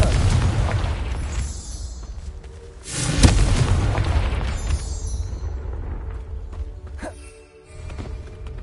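Confringo spell explosion in Hogwarts Legacy on PS5, a sharp booming blast around the middle followed by rumbling debris and smaller pops, with game ambience before and after.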